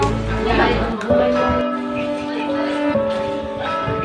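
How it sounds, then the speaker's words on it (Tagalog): A church bell rings with sustained, ringing tones that overlap and linger, heard clearly over a busy background. "Kanina pa nga pong tugtog ng tugtog ang kampana."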